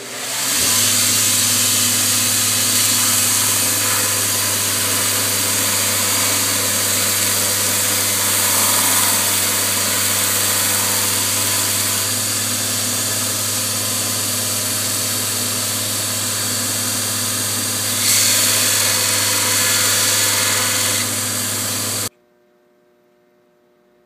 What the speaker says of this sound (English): we'll be using our Craftsman belt sander to make the profile of the holster and get closer to the line